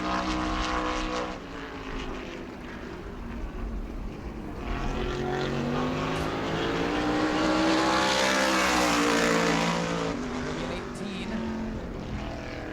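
A race car at speed on the New Smyrna short oval during World Series qualifying, a loud engine drone rising and swelling in pitch as it passes, heard under commentator talk.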